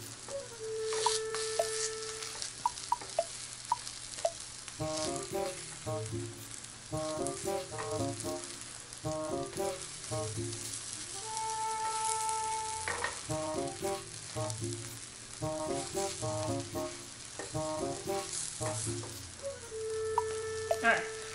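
Fried mashed potato cooking in a pan, a soft continuous sizzle with repeated clinks and scrapes of a utensil, no voices.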